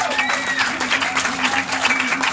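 Steady applause from an audience, dense clapping filling the room for a couple of seconds, with a few voices murmuring underneath.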